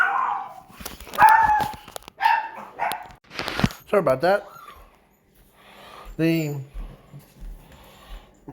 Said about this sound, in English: That's my dogs that are barking.